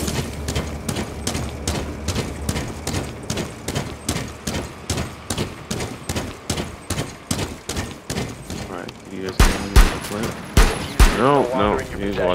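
Rapid, steady bursts of gunfire from Rainbow Six Siege on the Coastline map, loud and continuous for most of the stretch, ending in a few heavier separated shots.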